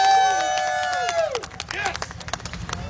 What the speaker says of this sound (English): Let's have a round of applause for Chucky, your winner.